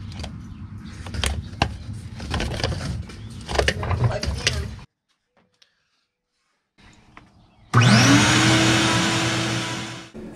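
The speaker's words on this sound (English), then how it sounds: "The shop vac's up above us, running, pulling the air up." A shop vac starts up after a pause and runs loud and steady, pulling air through a dryer vent as a rushing whine. Speech and handling noises come before it.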